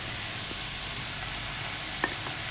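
Chicken and charcuterie frying in butter and oil in a pan, an even, continuous sizzle with a few soft ticks and stirring scrapes.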